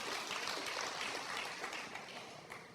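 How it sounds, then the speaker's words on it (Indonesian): Crowd applause fills a church congregation, a dense steady wash of many hands clapping at a loud level that holds throughout and fades slightly toward the end. "Berikan tepuk tangan yang meriah buat Tuhan."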